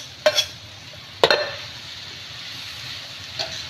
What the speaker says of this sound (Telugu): ఇప్పుడైతే నేను దంచి పెట్టుకున్న శనగగింజలు అయితే వేస్తున్నానండి